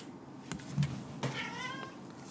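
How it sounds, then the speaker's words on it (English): A cat meows close by, a short wavering cry that rises and bends, alone over faint room noise while Pokémon card tins are being opened. "And we got cats freaking out."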